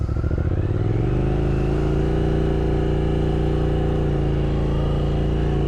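A 2023 Triumph Speed Twin 1200 motorcycle is kicked into gear and pulls away, its parallel-twin engine rising from a lumpy idle to a steady, loud droning pull, heard close with no talk.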